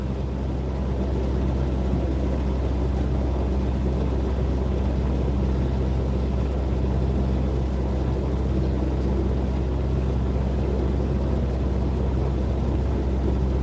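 Narrowboat engine running on the deck, a steady low diesel throb with a constant hum that stays loud and unbroken throughout, no speech over it.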